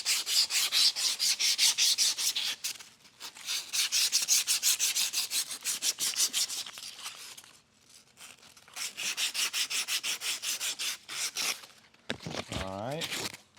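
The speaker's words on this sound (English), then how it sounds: "I'm gonna take a little bit of emery cloth, and I'm just gonna go around this just to make sure we don't have any burrs" Emery cloth rubs around a metal custom axle part, deburring it after spline cutting on a horizontal mill: a close, rapid run of rhythmic scratchy strokes in bursts with short pauses, then a brief tonal whine at the end.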